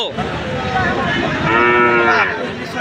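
A calf moos loudly and steadily nearby, one long drawn-out call with a wavering pitch, no voices.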